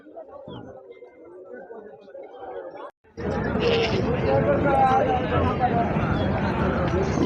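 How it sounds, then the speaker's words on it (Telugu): Goats bleat amid a busy, noisy crowd at the Saturday livestock market in Dubbaka, with people chattering loudly nearby as the din swells partway through. "లోకల్ మేకపోతులు అండి ఇవన్నీ"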